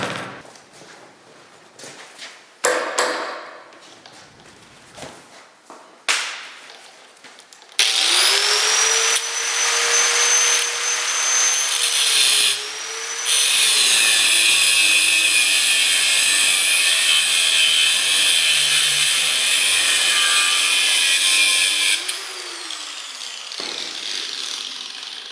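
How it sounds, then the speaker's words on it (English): A powered cutting tool slices a piece off metal in a machine shop, first with short intermittent bursts, then a long sustained whine whose pitch wavers as the cut proceeds before it winds down. No talking. "Actually, I got to cut this off first."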